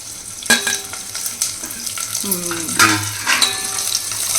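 Curry leaves fry in hot oil in a kadai with a loud, close crackling sizzle, stirred with a few clanks of a spoon against the pan, and brief voices in the background.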